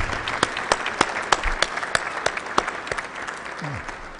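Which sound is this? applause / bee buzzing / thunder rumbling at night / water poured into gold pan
applause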